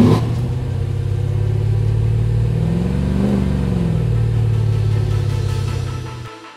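A restored Land Rover Defender 110 with a 6.2-litre LS3 V8 rumbles loud and close, revving steadily in a deep, sustained roar that swells slightly mid-way before cutting off.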